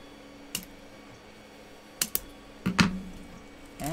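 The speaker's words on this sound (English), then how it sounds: "So with it locked into place, we'll just snip our cable ties." Cable ties being snipped on a PETG filament master spool, a few sharp isolated clicks spaced across a quiet room, close to the microphone.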